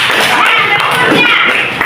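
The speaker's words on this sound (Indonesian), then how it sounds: "Iya, tepuk tangan dulu." A classroom of students claps together in a continuous, loud burst of dense, overlapping hand claps close by, mixed with some voices, during a school lesson.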